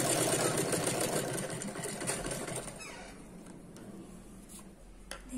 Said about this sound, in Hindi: डबल सिलाई चला देंगे ताकि मजबूत रहे।